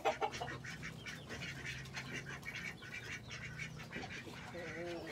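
Domestic ducks let out of their pen near water hyacinth give bursts of quacking and honking, close and moderately loud, mixed with a voice in the background.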